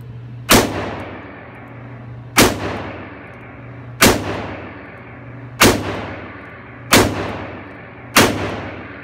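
A Smith & Wesson 625 revolver fires six rounds at an outdoor range, each a sharp loud crack with a short ringing decay, spaced roughly one and a half seconds apart, with no talking.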